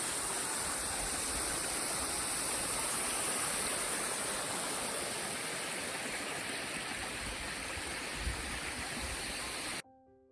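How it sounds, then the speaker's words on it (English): Continuous roaring rush of water falling at the Adams Canyon waterfall, broad and steady throughout, loud and close, cutting off abruptly near the end. "Adams Canyon waterfall."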